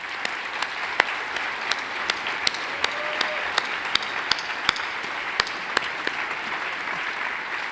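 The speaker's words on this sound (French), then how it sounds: "je vous invite à applaudir le Hérisson" An audience at a France Nature Environnement Haute-Savoie fiftieth-anniversary conference applauds: a dense, even wash of clapping from many hands, with sharper individual claps standing out throughout.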